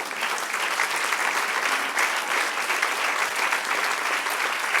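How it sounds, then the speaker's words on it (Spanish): A church congregation applauding, sustained dense clapping that runs steadily throughout at a moderate level, with no voices standing out. "Denle un aplauso al Señor."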